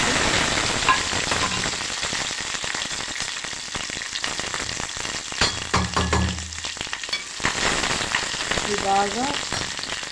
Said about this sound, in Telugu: ఆవాలు చిటపడలాడాలి